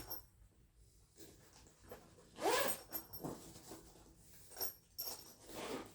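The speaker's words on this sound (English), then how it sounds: "And they all have heavy duty zippers on them as well." A heavy-duty zipper on a Gobi travel kit bag opens in a few quick rasping pulls, close and fairly quiet, amid soft handling rustle.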